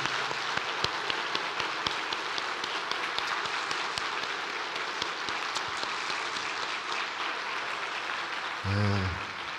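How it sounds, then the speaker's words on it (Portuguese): An audience gives warm applause, dense clapping holding steady for several seconds with a few sharper individual claps, and a brief voice near the end. "uma calorosa salva de palmas"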